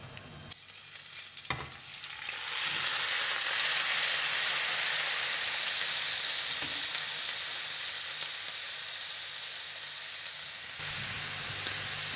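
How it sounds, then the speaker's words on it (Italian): Drained broccoli hits hot oil and sets off a loud, steady sizzle that swells within a couple of seconds and holds as a dense, close frying hiss, with occasional stirring bumps. "abbasso la fiamma e aggiungo i broccoli scolati"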